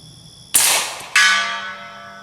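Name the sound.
rifle bullet hitting steel target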